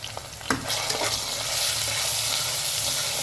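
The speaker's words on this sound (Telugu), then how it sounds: "ఫ్రై చేయాలి బాగా." Cabbage fries in a pan with turmeric and black peppercorns, sizzling loudly and steadily while a utensil stirs and scrapes the pan close by.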